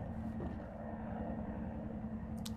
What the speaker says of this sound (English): Hear the helicopter.